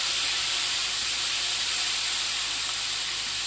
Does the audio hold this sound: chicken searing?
yes